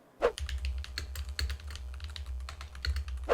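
Computer keyboard typing picked up by a Razer Seiren Mini microphone: a steady rapid run of close clicking keystrokes with a low hum underneath, no voices.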